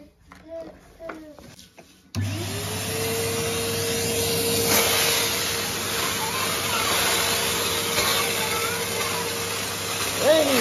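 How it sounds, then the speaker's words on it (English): A Henry vacuum cleaner starts abruptly after a few seconds of a child's chatter and background voices, then whirs loudly and steadily while hoovering up fake snow mess indoors, its motor tone rising and holding. "We need to hoover that out with the Henry this time."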